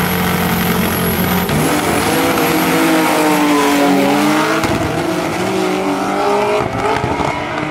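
A turbocharged Opala drag car, rated around 800 hp, accelerates hard in a loud, sustained roar whose engine pitch climbs and shifts, with a high whine running above it and no talk.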